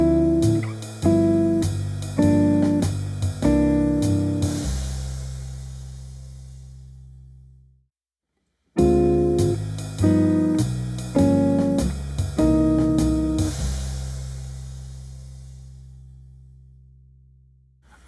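A jazz guitar plays a minor ii-V progression of half-diminished and altered dominant chords in two passes, each a run of strummed chords that ends on a long ringing one fading out, with a brief silence between.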